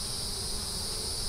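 Honey bees and drones on a honey frame pulled from a hive, giving a steady, faint buzzing hum with no breaks and no voices.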